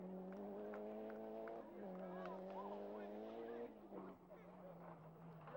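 Rally cars at the 1991 Rallye International du Valais charging down a gravel special-stage road in the evening, engines screaming at high revs with gear changes and a drop in pitch as one passes, all under excited commentary.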